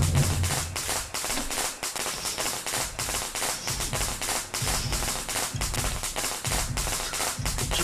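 Firecrackers thrown in the horror game Shadow Corridor go off as a long run of sharp, rapid cracks and pops, loud and close, with scattered thumps between bursts.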